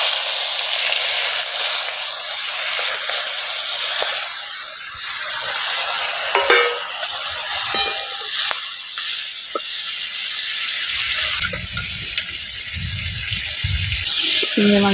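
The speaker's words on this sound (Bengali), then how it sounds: "এবার ওই তেলের মধ্যে চিংড়ি মাছগুলোকে একটু ভেজে নিচ্ছি" Shrimp fry in oil left over from bitter gourd, a continuous hissing sizzle close by, with scraping and handling noises and a voice talking over it for part of the time.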